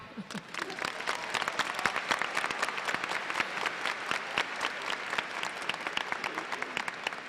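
Audience at a 2019 high school graduation ceremony applauds with sustained, dense clapping from a large crowd that holds steady throughout.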